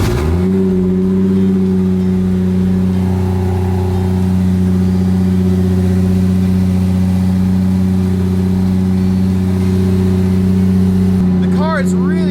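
A turbocharged Toyota Supra engine with a leaky exhaust runs steadily and loudly at a constant idle-like drone, close by and unbroken for the whole stretch, with a brief chirping noise near the end.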